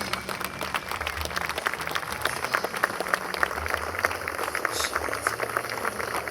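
An audience at a memorial inauguration in Nantes applauds a delegation. Steady, dense clapping from a large crowd fills the whole stretch at an even level.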